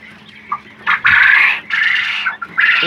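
Quail chicks give several loud, close chirping calls in bursts, separated by short pauses, during handling for weighing, with no speech heard.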